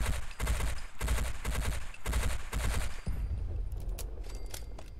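BR77 battle rifle gunfire in Fallout 4, five rapid bursts of automatic fire in quick succession, loud and close, then scattered distant shots and echoes trailing off.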